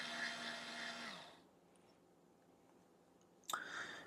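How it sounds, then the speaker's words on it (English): Motor of a Yashica T4 Super compact film camera, freshly serviced with a new battery: a short close whirring buzz fades out, a quiet pause, then a second sharp burst of motor whir. "Motor noise."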